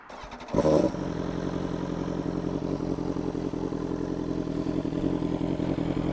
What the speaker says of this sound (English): And then a Pro Race carbon can, I've put that on. Sounds a treat, that does.